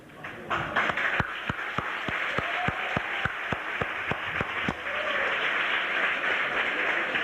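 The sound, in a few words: applause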